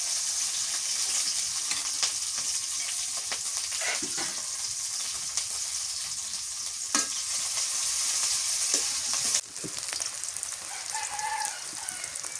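Onions frying in hot oil for a cauliflower fish curry, a loud continuous sizzle with occasional spatula stirs close by and a rooster crowing faintly in the background; no one speaks.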